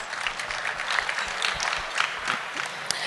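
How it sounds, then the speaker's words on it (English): A dressed-up crowd at an awards evening breaks into continuous applause, a dense wash of many hands clapping steadily throughout, moderately near. "please give yourself a round of applause"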